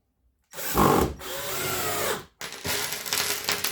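A 9-year-old cordless drill drives screws into wood in two close whirring bursts separated by a brief stop, with a rising strained whine as each screw seats.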